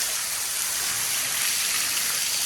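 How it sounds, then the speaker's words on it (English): Water pours steadily inside an abandoned railway tunnel, a constant hissing, rushing wash like a small waterfall, moderately close and unbroken, with no voices. "The railway tunnels have got its very own waterfall."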